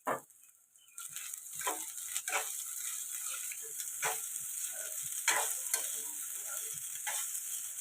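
Cooked rice tipped into a pan of fried vegetables for egg fried rice and stirred, giving a steady sizzle with repeated scraping and clinking strokes of the spatula, close and moderately loud, after a brief quiet moment at the start.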